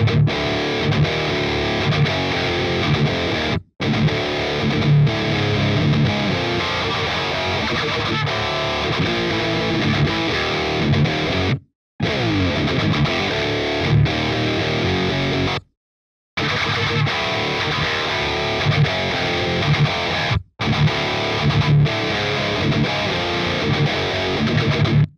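Heavily distorted electric guitar runs through the Audiority Solidus VS8100 plugin, an emulation of the solid-state, dual-channel Marshall 8100 Valvestate amp. Dense, sustained riffing is loud and continuous, broken by a few short silent gaps.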